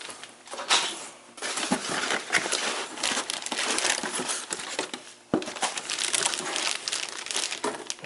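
Cardboard packaging for a Beretta A300 Outlander shotgun being shifted and handled up close, with steady crinkling, scraping and crushing rustles running throughout, broken by a brief pause before the handling resumes.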